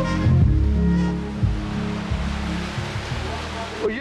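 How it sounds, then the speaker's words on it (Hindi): An artificial waterfall gives off a steady hiss of flowing water that goes on without a break, moderately loud, under low droning tones and a faint voice. "ये तो आबशार है, आबशार।"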